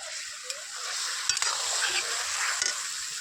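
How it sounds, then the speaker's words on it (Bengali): Ridge gourd sizzles as it is stirred in a hot pan, with a steady frying hiss and occasional scraping clicks of the spatula against the metal, close and clear. "ঝিঙেটা নেড়ে নেব।"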